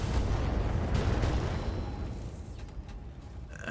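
Heavy mech weapons in the Battletech video game, a loud, dense rumbling barrage of booming impacts and blasts that rolls on continuously, thinning slightly toward the end.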